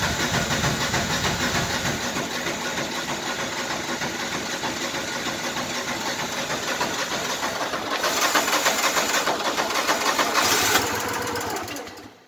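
A Landmaster LM650 UTV engine runs loud and close right after a cold start, holding a rough, steady idle, then revving up briefly before cutting off at the end.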